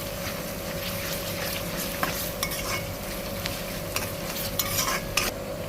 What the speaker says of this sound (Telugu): పచ్చివాసన వెళ్ళే వరకు ఫ్రై చేసుకోవాలి